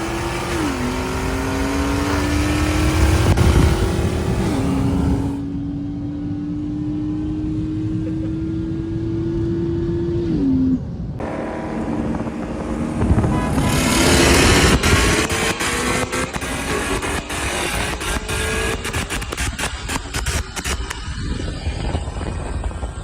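A single-turbo BMW 335i engine revs hard at a race track and climbs through the gears, whining rising pitch with shifts, then pops and crackles from the catback exhaust, loud and continuous.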